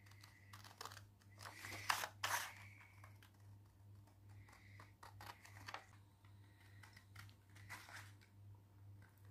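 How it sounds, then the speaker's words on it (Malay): Scissors snip through paper while cutting out the parts of a vernier caliper model, making scattered crisp cuts and crinkles close by over a low steady electrical hum, with no speech. "jom kita gunting"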